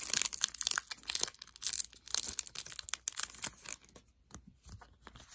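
A Pokémon Celebrations trading card pack is cut open with scissors, giving close crinkling and tearing of foil wrapper with snips and rustles, soft and intermittent, without talking.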